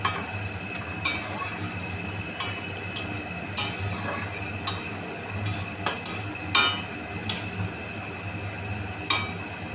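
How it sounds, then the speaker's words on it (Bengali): Pabda fish curry being gently stirred in a pan, with repeated light clinks and scrapes of a utensil against metal over a steady low background, the contacts spaced irregularly across the stretch and fairly close. "এটাকে হালকা করে আমরা নেড়ে নেব"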